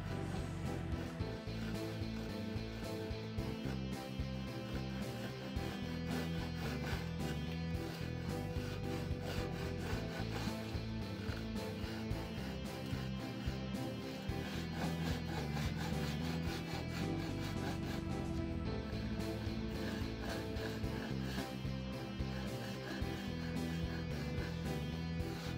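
A Japanese pull saw cuts wood tenons, a steady run of rhythmic rasping strokes close by, continuous and even throughout with no talk.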